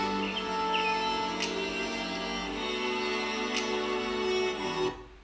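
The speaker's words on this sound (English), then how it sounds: "Then I also added some birds." Bird chirps layered into a music beat built on a cello sample and a snap, with short high tweets scattered over sustained tonal music and the track cutting off near the end.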